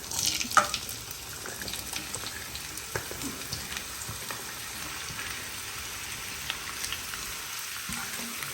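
Capsicum, onion and tomato sautéing in oil, a steady soft sizzle with scattered crackles and small clicks, fairly faint and continuous throughout.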